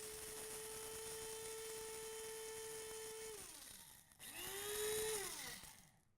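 Electric grinder whirring as it grinds flax seeds into flax meal: a steady high motor whine for about three seconds, a brief drop, then a second louder burst that rises and winds down, close and alone.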